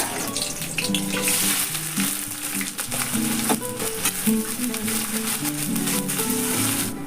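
Onions fry in hot oil with bay leaf, cloves, cardamom and red chilli, giving a dense, steady sizzle with intermittent crackles and stirring, loud and close, with no voices.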